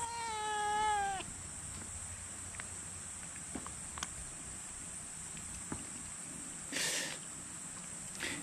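A stray cat at Cheongpyeongsa temple gives one drawn-out meow near the start. The rest is quiet outdoor ambience with faint footsteps and a brief scuffing burst later on.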